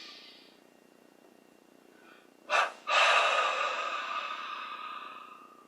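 A slow, deep inhalation comes during guided meditation breathing, a short sharp intake followed by a long airy breath drawn in close to the microphone, quiet after a faint earlier breath.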